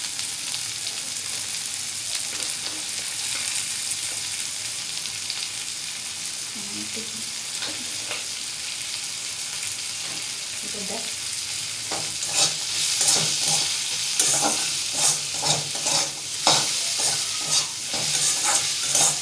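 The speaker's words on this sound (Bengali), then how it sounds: "আর সামান্য একটুখানি হলুদ দিয়ে আমি এটা ভালো করে কষিয়ে নেব।" Chili powder and turmeric sauté in a pan with an even sizzle that turns louder and busier midway, with rapid scraping strokes of a spoon stirring the spices.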